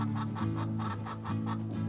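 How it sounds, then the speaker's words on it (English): A brood of egg-laying hens in a small urban backyard clucks in quick, rhythmic repeated bursts, heard fairly close but at a modest level, with no talking. "A brood of egg-laying hens in a small backyard."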